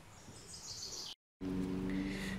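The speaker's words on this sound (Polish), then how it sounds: "W parku ptaszki śpiewają." Birds chirp and sing in a park, a steady wash of high calls over faint outdoor noise, broken by a brief dropout before a louder, closer stretch with a low hum.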